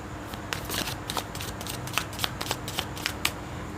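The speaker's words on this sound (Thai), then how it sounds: "โอเคหมอขออนุญาตเก็บไพ่นะคะ" Tarot cards being gathered and shuffled by hand during a reading, a run of quick riffling flutters and crisp card snaps close up, growing more regular and rhythmic toward the end, with no talking.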